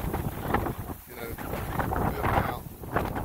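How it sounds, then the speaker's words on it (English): Gusty wind blows outdoors by a lake in Frostproof, Florida, buffeting the microphone in rough surges that rise and fall throughout. "I don't know how fast the wind's moving out here, but there's gusts."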